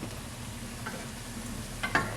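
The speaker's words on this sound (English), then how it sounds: "Give it a stir." A spoon stirs bowtie pasta through a simmering cream sauce with peas, giving quiet scraping and soft clinks, with a couple of sharper taps near the end over a low bubbling hiss.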